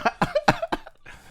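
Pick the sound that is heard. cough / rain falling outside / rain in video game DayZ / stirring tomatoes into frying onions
cough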